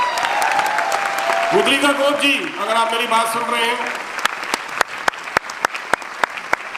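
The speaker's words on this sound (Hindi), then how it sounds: "मैं चाहूँगा एक बार जोरदार तालियों के साथ उनको यहाँ पर बुलाया जाए" Someone speaks loudly into a microphone at a sales promotion meeting, followed by a burst of sharp individual claps that grow more distinct toward the end as applause begins to welcome a guest.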